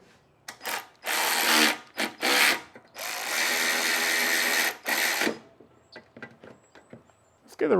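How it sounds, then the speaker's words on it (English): A power drill drives screws back into a Craftsman 6.5 HP lawn mower in several loud, close whirring bursts of one to two seconds each, followed by quieter handling clicks and taps. "Put a couple of screws back in it."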